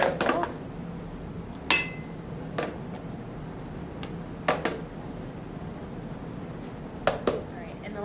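Frozen banana ice cream is spooned into bowls with a few sharp clinks and scrapes of a spoon against dishes, scattered over several seconds while someone talks.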